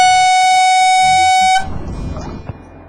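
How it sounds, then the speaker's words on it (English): A gas canister foghorn for dinghy safety in fog gives one loud, steady, pitched blast lasting about a second and a half, then cuts off into faint rustling handling noise. "In fog, sound is more important than vision, so a gas canister foghorn is required."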